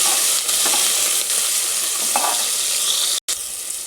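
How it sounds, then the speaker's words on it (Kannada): Spices with mint and coriander fry in a pan, giving a constant loud sizzle with occasional stirring scrapes and a brief cut to silence near the end. "ನೋಡಿ ಚೆನ್ನಾಗಿ ಫ್ರೈ ಆಗೈತೆ"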